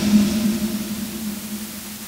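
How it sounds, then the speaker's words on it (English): MP3-encoded dither noise boosted by 60 dB, a steady loud hiss with a low droning hum under it, continuous and unchanging, no voices. "The reverb tail decays for much longer, but we've got extra obnoxious noise as well."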